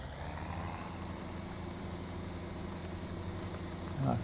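A tractor engine in a farming video game idles with a steady low rumble while being parked, holding even throughout before a brief louder swell at the very end.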